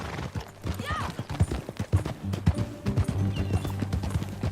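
Horse hooves clip-clopping at a steady ride in Red Dead Redemption 2, rhythmic thuds close by under a low music bed, with a brief whinny early on.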